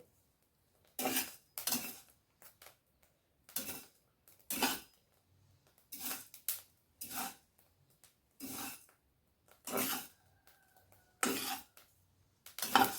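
Rice flour slowly roasting in a pan over low heat for sweet rice-flour laddu, heard as a steady series of short, dry scraping and crackling bursts, roughly one each second, close and fairly quiet, with no talk.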